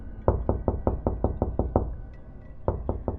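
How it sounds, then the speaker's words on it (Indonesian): Loud, rapid knocks pound on a bedroom door in a horror-story setting, eight in a steady series, then a short pause and three more; close, heavy and resonant, with no voices. "ada suara ketukan keras di luar pintu kamar kami"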